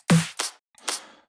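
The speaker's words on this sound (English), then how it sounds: "So next we add a clap" Two sharp, bright clap hits spaced apart, the first with a low thump beneath it, each decaying quickly into a short tail.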